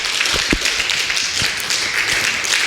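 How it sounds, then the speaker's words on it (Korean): A church congregation at a Friday worship service applauds its elders with a dense, continuous wash of clapping from many hands. The applause stays loud and steady throughout. "우리 장로님들 여러분 여기 안 계신 장로님들도 있고 장로님들 계신데 우리 한번 박수 한번 칩시다"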